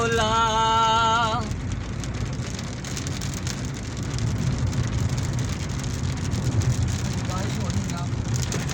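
Steady rain falls on a road in a village near Pind Dadan Khan, Jhelum, with passing traffic. The wash of rain continues throughout, and a brief sung or hummed melody opens the clip.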